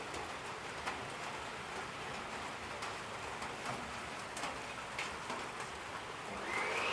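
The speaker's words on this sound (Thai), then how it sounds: "ฝนลงเม็ดละนะฮะ" Steady rain patters continuously on surfaces nearby in a garden, a dense even hiss with occasional louder drips, and no voices.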